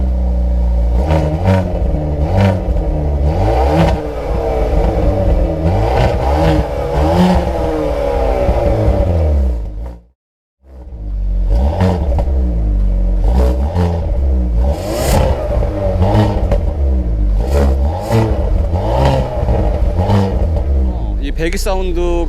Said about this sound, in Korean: 배기음을 한번 들어봐야 되니까